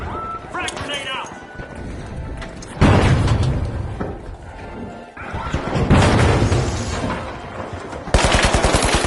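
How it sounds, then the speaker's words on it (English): A frag grenade thrown and detonating in the video game The Finals, with loud bursts of blast and crashing debris amid other game noise, ending in rapid sharp cracks of gunfire, and voices talking over parts of it. "Frag grenade out."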